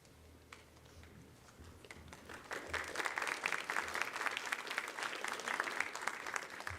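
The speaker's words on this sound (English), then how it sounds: "I don't think I've ever gotten a round of applause." Audience at a school sports awards ceremony applauding, scattered claps building into sustained, fairly distant clapping from a crowd.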